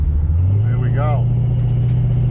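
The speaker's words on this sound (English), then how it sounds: "Well, that's better burnouts than it used to, that's for sure" A Pontiac LeMans 400 does a burnout with a loud, close engine droning at a steady high rev, and voices shout over the noise at the start.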